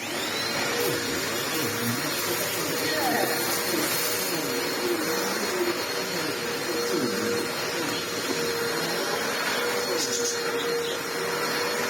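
An Ewbank Motion EW3001 vacuum cleaner runs continuously at close range after being unclogged, a steady whirring roar with a faint higher whine, unbroken and without talking.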